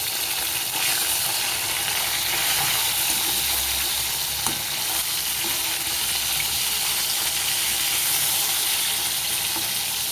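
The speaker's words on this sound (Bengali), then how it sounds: "এইভাবে আমি মাছগুলোকে উল্টে পাল্টে ভেজে নেব।" Katla fish pieces fry in hot oil in a wok, giving a loud, steady, close sizzle that runs unbroken throughout with faint scraping as they are turned.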